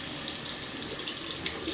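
Running tap water splashing in a sink while fingers are wetted during a shave with a Gillette Slim adjustable razor and citrus shaving cream, a steady close hiss with no speech.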